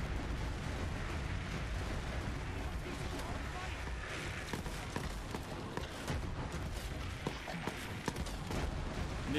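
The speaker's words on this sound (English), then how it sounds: "We're just going to throw a couple pipe bombs." Pipe bombs exploding in Borderlands 3 while farming legendary loot: dense, rumbling blasts and bursts roll on continuously, with a voice talking over the gunfire-like din.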